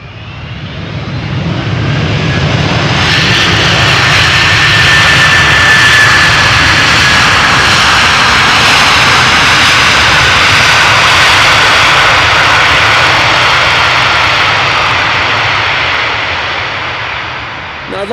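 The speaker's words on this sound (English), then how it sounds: "you guys probably have gone a little deaf by the royal application of the reverse thrusters there" A jet airliner landing at Amsterdam Schiphol blasts loud reverse thrust, a roar that builds over a couple of seconds, holds steady and powerful for a long stretch, then eases off at the end.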